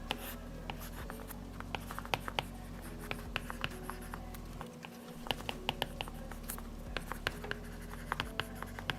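An Apple Pencil writes on an iPad 10 fitted with a Paperlike screen protector, giving a soft, close scratching with small irregular taps over a low steady hum, quiet and without talk.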